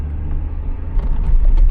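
A 1991 VW Golf 2 engine (1.8-litre, 90 hp, 3-speed automatic) rumbles low and steady, its roar swelling slightly as it picks up revs toward the end.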